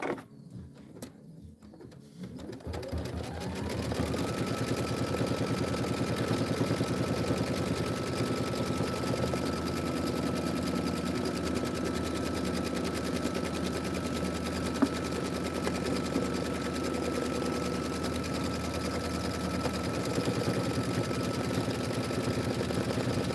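An embroidery sewing machine stitching a tack-down on a Kimberbell home-sewn tiling project, starting after a few seconds of scattered noise and then running as a fast, steady mechanical whir with a sustained tone, close and loud, with no talking.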